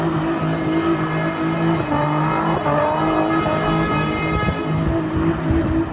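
A car engine revving hard near the listener, a loud steady roar with pitch rising and falling between pushes, mixed with tire whine and no voices over it.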